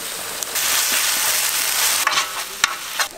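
Onion, green chilli, curry leaves and ginger-garlic paste fry in hot oil for fish cutlets, a loud, dense crackling sizzle throughout, with a few brief clicks of a spoon against the pan.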